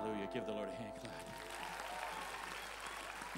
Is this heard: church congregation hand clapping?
yes